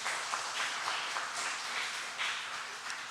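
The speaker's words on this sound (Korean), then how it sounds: "우리 정연이 이렇게 반주할 수 있도록 잘 보내주시는 거 여러분 큰 박수 한번 부탁드리겠습니다." Church congregation applauding during a Friday worship service, a steady wash of clapping from many hands filling the room, moderately loud and continuous without talk over it.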